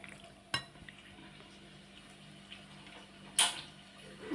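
A spoon stirs macaroni in a pot, giving faint soft scraping with two sharper metallic clinks against the pot, quiet and close with no talking.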